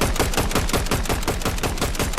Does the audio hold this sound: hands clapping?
no